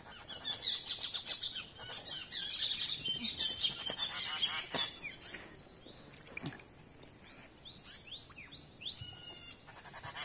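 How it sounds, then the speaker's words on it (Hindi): A baby bird held in a hand in a mountain forest gives repeated thin, high chirps, close and lively, with rustling and other faint outdoor noise around it. "ये बच्चा पक्षी का, और मेरे हाथ में बड़े शानदार तरीके से बैठा है।"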